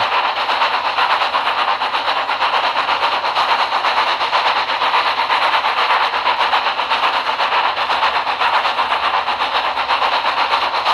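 Two steam engines chuff in a rapid, steady rhythm, loud and continuous, laboring hard while climbing a hill.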